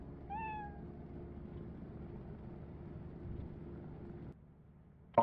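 A cat in the modded Lethal Company video game gives a short rising meow near the start over a steady low game hum, and a second sharp meow bursts out loudly at the very end.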